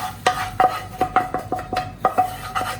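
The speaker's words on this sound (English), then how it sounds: "Now we add tomatoes in this dal." A spoon repeatedly scrapes and knocks against a cooking pot as tomatoes are stirred into dal makhani, a steady run of metallic clinks and scrapes close by with no talking.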